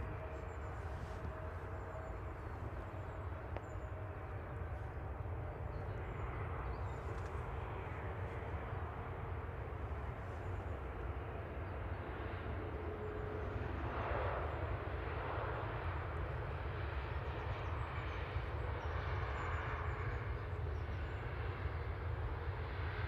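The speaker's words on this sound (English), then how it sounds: "Pegasus coming in from Istanbul TC MBH, flight 1179, A320 Neo." Pegasus Airbus A320neo arriving from Istanbul, a steady airliner engine roar holding loud and continuous throughout, swelling slightly toward the end as it passes close, with no talk over it.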